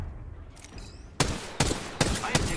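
Gunfire in the video game Apex Legends: after a quieter stretch, four loud sharp bursts ring out in quick succession, close and punchy, with no voices over them.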